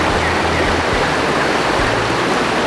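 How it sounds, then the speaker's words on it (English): A cold creek in a freezing, rainy part of Australia rushes loudly and steadily, its dense broadband flow filling the whole stretch with no break and no voices. "Let's have a look at this creek first."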